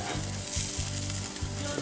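Sausages sizzling on a grill, a loud, dense hiss of fat spitting that holds steady and close for the whole stretch.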